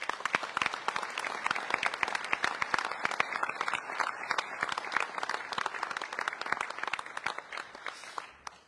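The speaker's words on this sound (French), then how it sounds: "Je pense que vous pouvez les applaudir." An audience applauds during a mayor's New Year address, with dense, continuous clapping throughout that fills the hall and thins slightly toward the end.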